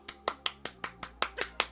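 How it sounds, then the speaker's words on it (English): A single person claps hands about nine times in an even, quick rhythm, each clap sharp and close with a faint steady hum behind. "And that is me clapping"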